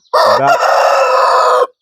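A single loud, close crow from a large Aseel rooster, rising then held in a long ringing call before stopping abruptly.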